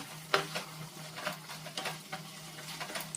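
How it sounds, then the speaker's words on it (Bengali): Potatoes and pointed gourd being stir-fried with spices in a pan, giving soft sizzling with irregular scraping and stirring strokes, fairly quiet and close, with no talking. "আলু পটল মশলা একসাথে সুন্দর করে কষিয়ে নিচ্ছি"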